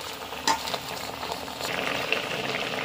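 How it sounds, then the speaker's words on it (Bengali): Gravy for pumpkin leaf rolls bubbles and sizzles steadily in a pan, close and moderately quiet, with a brief clink near the start and no talking. "গ্রেভি ফুটে গেছে।"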